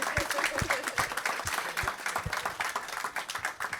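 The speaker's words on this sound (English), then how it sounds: "Keep on clapping." Audience clapping at a climate discussion session, steady and continuous for several seconds, moderately loud with a slightly uneven rhythm and some voices mixed in.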